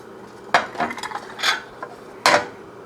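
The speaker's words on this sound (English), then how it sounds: "This is how I flip these." Leche flan flipped out of its metal pan, a few sharp metallic clanks and knocks with a soft thud, then one final loud clatter, close by with no talk.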